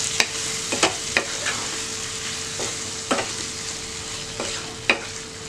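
Onions and tomatoes sauté in a pan for a chicken kofta gravy, with a steady close sizzle broken by about eight sharp spatula taps and scrapes at irregular intervals.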